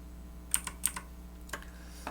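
A few sparse, quiet clicks of a computer keyboard as the Ctrl+D shortcut is pressed to duplicate shapes while building a staircase template in PowerPoint, with no talking.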